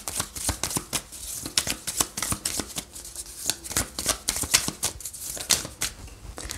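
Tarot cards shuffled by hand for an intuitive reading, a quick irregular run of crisp riffling flicks and slaps, close and fairly loud, with no talking over it.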